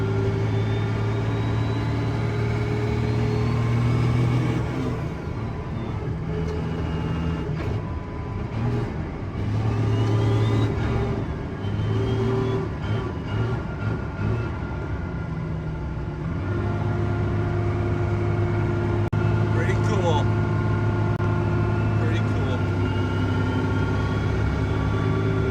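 A truck at a truck fest, its engine rumbling steadily up close with a few rises and falls in revs as it is driven, no talk.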